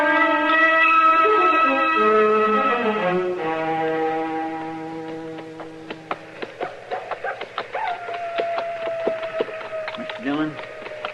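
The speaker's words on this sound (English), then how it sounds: "Mr. Dillon, you reckon that's a coyote singing?" In a western radio drama, a howl playing a coyote rises and falls in long wavering tones over a saloon backdrop, followed by a run of sharp clicks and knocks with a later sustained tone.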